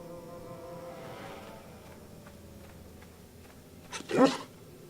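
A single short bark from a dog in the video game Neverwinter Nights 2 sounds near the end, fairly close, after a few seconds of low, quiet background hum.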